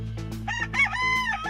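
A rooster crows loudly and nearby in a strained, rising-and-falling call, with a few chicken clucks before it and a low steady hum beneath.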